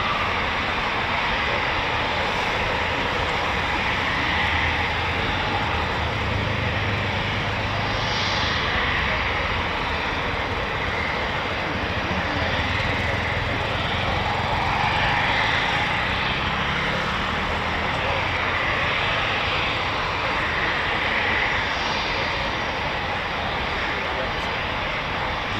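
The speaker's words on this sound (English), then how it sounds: "these latter ones are Italian Air Force Typhoons" Italian Air Force Eurofighter Typhoon jets flying, a broad, constant roar of jet engines holding steady and loud throughout with no clear pass-by peak, while a voice talks over it.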